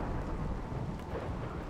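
Steady rain with a low rumble of thunder in the RimWorld video game, a continuous, even wash of storm noise with no voices over it.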